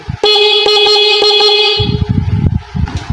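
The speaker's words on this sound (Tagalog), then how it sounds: "paano palakasin yung stock ng busina natin" A stock car horn, wired through a relay to make it louder, blares in one long, loud, steady honk up close, then cuts off, followed by clattering handling noises.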